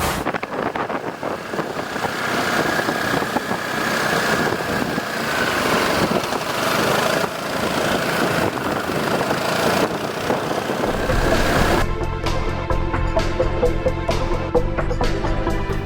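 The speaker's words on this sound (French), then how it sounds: "nous sommes aujourd'hui au guidon du nouveau MP3 millésime 2022 de Piaggio" A Piaggio MP3 530 HPE Exclusive three-wheeled scooter from 2022 runs steadily with a close, continuous engine drone, then the sound shifts abruptly near the end to a different steady hum.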